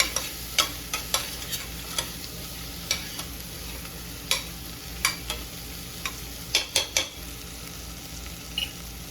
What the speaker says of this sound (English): I'm also adding in some sweet potato, one small sweet potato cut up. Mix it in good.